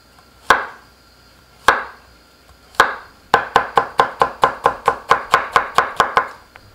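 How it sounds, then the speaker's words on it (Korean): A knife chops vegetables such as onion, Korean hot peppers and green onion on a cutting board for pumpkin sujebi: a few spaced sharp cuts, then a quick steady run of about a dozen crisp chops, close and clear with no talk. "청양고추 한 고추는 어서 썰어주세요."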